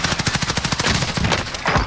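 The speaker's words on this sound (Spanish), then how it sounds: "¡me están disparando!" Rapid automatic gunfire in a first-person shooter video game, a fast, loud, continuous stream of shots close up that briefly thins before resuming, with no talking.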